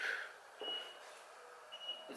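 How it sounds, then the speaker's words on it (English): A car security system on a Mazda FC RX7 undergoing a 13B-REW engine swap sends out two short, thin beeps about a second apart, fairly near in a quiet garage. "The car's beeping more."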